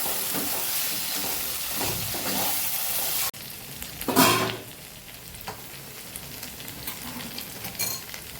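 Finger chips cooking in oil in a pan for a Kathiyawadi-style shaak, stirred occasionally: a steady close sizzle and frying hiss with a brief louder scrape of stirring, no talking.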